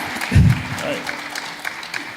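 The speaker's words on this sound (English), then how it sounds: "let's give him a round of applause" Applause from a crowd, light scattered clapping running under a voice speaking.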